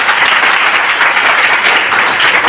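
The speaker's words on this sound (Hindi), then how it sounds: "एक बार जबरदस्त ताली अपने लिए बजाइए।" Loud, dense applause from a crowd at an RCM business meeting, steady continuous clapping throughout with no pauses.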